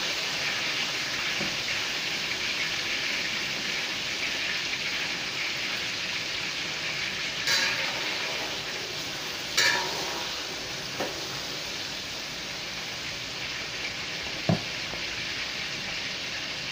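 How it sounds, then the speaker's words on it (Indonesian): Steady, dense sizzling of chicken frying in hot oil, with a few faint clinks and scrapes of stirring. "ni saya nak goreng ayam"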